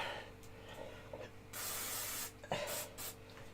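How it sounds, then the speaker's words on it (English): A quick spray onto a hand gives short hissing bursts, the longest mid-clip followed by briefer puffs, close and fairly quiet. "quick spray on the hand."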